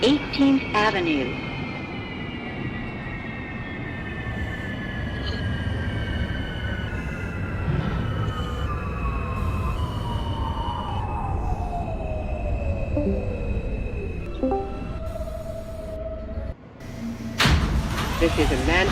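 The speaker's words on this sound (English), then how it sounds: "This is a Manhattan-bound Q train via the N line." An NYC Subway R160A Q train in the OpenBVE simulator rumbles steadily with a long descending electric whine as it slows, followed by a pinging door chime and sliding door sounds near the end.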